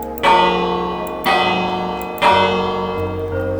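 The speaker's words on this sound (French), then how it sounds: "Et maintenant, la cloche." A bell in the video game Minecraft rings three times at roughly one-second intervals, each clear metallic strike decaying with a long ringing tail.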